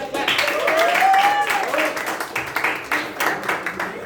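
An audience claps for a speaker at a youth leadership meeting, with broken, uneven bursts of applause running through the whole clip amid a busy room.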